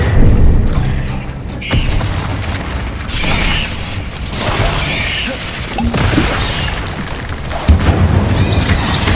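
Repeated fire-spell blasts cast during Hogwarts Legacy combat, loud booming bursts every couple of seconds layered over dense game music and crashing effects, no talking.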